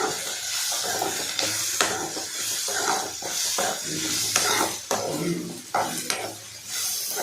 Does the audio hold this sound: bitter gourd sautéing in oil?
yes